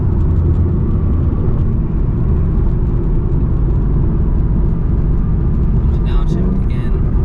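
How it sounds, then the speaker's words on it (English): A Ford Mustang GT's engine roars loudly and steadily from inside the car as it downshifts, a heavy low rumble throughout with a brief voice near the end. "Downshift again."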